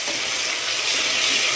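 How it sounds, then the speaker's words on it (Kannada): Onions with ginger-garlic paste frying in a pan for mutton sambar make a loud, steady, close sizzle and hiss that stays even throughout. "ಈರುಳ್ಳಿ ಸ್ವಲ್ಪ ಚೆನ್ನಾಗಿ ಫ್ರೈ ಆಗಲಿ"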